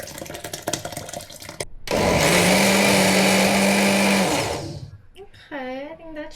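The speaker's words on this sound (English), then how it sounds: "So it's time to blend everything in my blender." A kitchen blender whirs loudly for about two and a half seconds as it purees corn for homemade corn milk, then winds down, with someone talking before and after the run.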